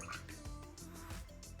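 Water, 1,000 grams of it, runs into a Thermomix mixing bowl, giving a soft continuous trickling and gurgling stream at low volume in a quiet kitchen.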